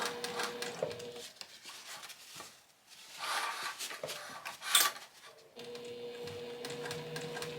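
A sewing machine runs a seam on a tote bag in short, uneven bursts of fast clicking with brief pauses between, close and fairly quiet.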